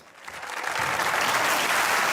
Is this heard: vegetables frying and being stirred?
no